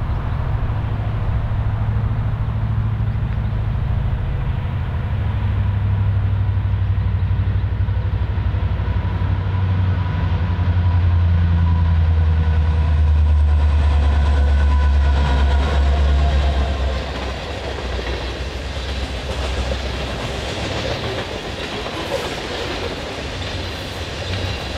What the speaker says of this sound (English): allowing our train of Wheaties to pick up speed on the straighter,